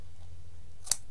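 A single short, crisp snip of scissors trimming paper or card for a recycled Valentine's craft, close and clear over a faint background hum.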